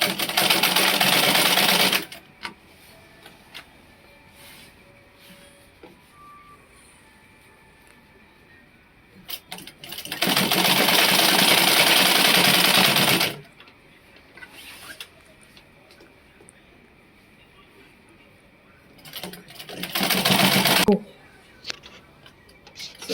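A sewing machine stitching a Celestial Church of Christ female four-corners garment runs in three loud, close bursts of rapid steady chatter, with quiet handling sounds in the pauses between runs.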